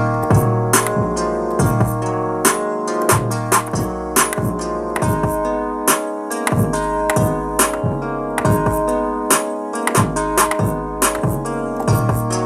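Simple hip-hop beat with kick, snare and deep 808 bass tones, looping in a steady rhythm with brief drops where the low end cuts out; loud, close and without any voices.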